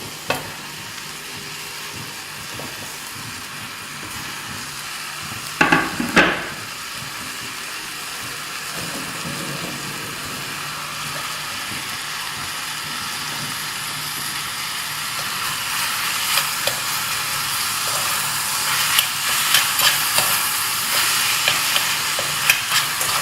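Onions, curry leaves and chopped tomatoes fry in a pan for a Kerala-style fish masala, a steady close sizzle running throughout, broken briefly by a clatter of stirring and growing slightly louder toward the end, with no talking.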